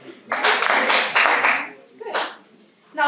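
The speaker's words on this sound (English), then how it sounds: "The rest of you, clap for them." A small theatre audience claps on cue in a stage play, a short cluster of sharp hand claps close by that fades out, then a second brief burst; a voice speaks at the end.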